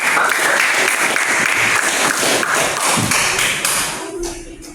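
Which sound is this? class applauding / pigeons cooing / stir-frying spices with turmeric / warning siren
class applauding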